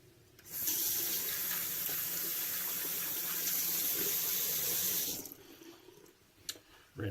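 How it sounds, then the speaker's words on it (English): A tap runs in steady, close-up flow for about five seconds while hands are rinsed under it, then shuts off to quiet with a few small drips and clinks. "Rinse my hands off here a little bit."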